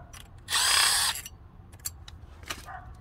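A power tool spins out bolts from a locking hub in a short, loud burst of whirring, followed by a few small metallic clicks and taps.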